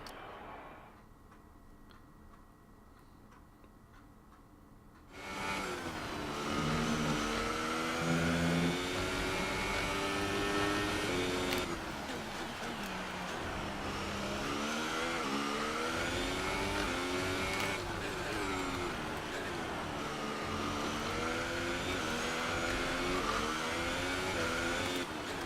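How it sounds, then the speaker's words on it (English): A Formula 1 car in the F1 2018 racing game runs with a rattling engine. Its loud, steady engine drone starts after a few quiet seconds and continues with slight rises and dips in pitch. "Hearing a bit of a rattle in the engine, so I do need to get this checked out after practice."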